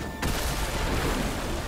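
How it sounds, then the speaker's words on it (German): A dynamite explosion in the PlayStation 5 game Astro's Playroom erupts and leaves a dense, sustained roar of debris-like noise, loud and continuous to the end. "Dynamit. Haben wir mal angezündet. Jetzt explodiert das da im Hintergrund oder was?"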